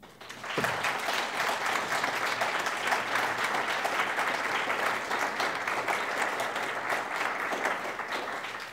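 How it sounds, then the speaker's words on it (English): Sustained audience applause at a conference talk, a dense, steady wash of clapping that rises quickly and holds evenly for several seconds without speech. "Round of applause one more time."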